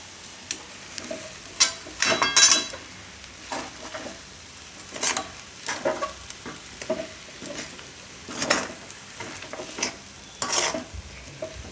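Kela poha of banana and flattened rice is stirred in a pan, with scraping spoon strokes at irregular intervals over a soft, steady sizzle, close by and with no talk.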